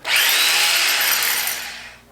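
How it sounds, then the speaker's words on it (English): Rotary hammer drilling in one loud, continuous burst that holds steady for about two seconds before tapering off, with no voices. "It's a rotary hammer, by the way."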